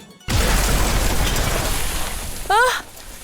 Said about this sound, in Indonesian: Aku tidak tahu, itu meledak begitu saja.